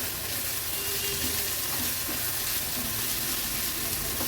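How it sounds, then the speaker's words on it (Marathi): Chopped onion with crushed garlic and ginger cooking in a pan on medium flame, a dense, even sizzle and hiss that holds steady throughout with faint stirring underneath. "आता हा कांदा आपल्याला मीडियम फ्लेमवर शिजवून घ्यायचा आहे"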